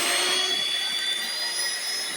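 An inexpensive electric hand mixer runs at a steady speed, giving a continuous high-pitched motor whine with an airy rushing hiss, loud and close with no pauses.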